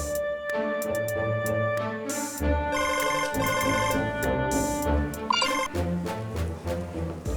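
A melodic phone ringtone plays steadily and fairly loudly for several seconds as an outgoing call waits to connect, with no voices over it.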